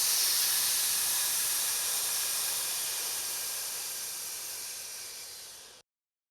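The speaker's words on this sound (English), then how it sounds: "on the breath out, the sound will be like the sound of steam being released" A long, steady hiss of breath pushed out between the teeth, like steam escaping, loud at first and fading slowly for several seconds before stopping abruptly.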